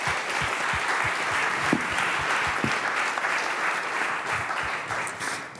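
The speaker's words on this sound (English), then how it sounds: "let's have a huge applause for the members of the panel for their fantastic contributions" An audience at a climate change service general assembly applauds a panel discussion, giving sustained, even clapping from many hands throughout that sounds fairly close in a conference room.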